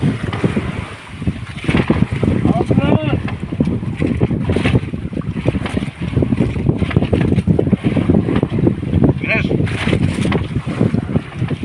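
Strong wind buffets the microphone outdoors by a boat on the water, a constant rough roar with gusty swells throughout, while people talk underneath.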